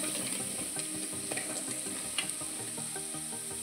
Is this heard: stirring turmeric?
yes